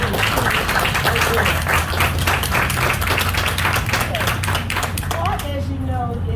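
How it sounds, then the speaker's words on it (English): Audience at a school 5th grade awards ceremony applauding the parents, dense sustained clapping from many hands that fades out near the end. "I want to give all of your parents an applause"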